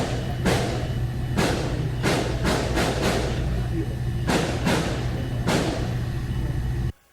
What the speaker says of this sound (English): Gunfire relentless.